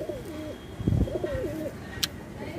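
Border-breed pigeons offered for sale coo in a few rolling, throaty phrases close to the mic, with a soft flutter and a sharp click partway through.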